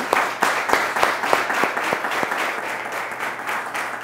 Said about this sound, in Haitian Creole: Applaudissements pour Jean-Venel Kasseri.